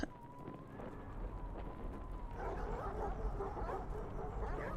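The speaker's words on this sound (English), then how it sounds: "You awake to the sound of distant barking, seeing one of the dogs has been excited by something" Sled dogs barking and whimpering in the polar survival game The Pale Beyond, a few yips and barks over a droning ambient background, with game music or voice faintly underneath.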